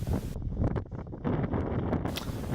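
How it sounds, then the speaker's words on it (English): Gusty outdoor wind buffeting the microphone in open countryside during metal detecting, loud rumbling bursts broken by a brief lull, with no voices. "and the wind is still with us."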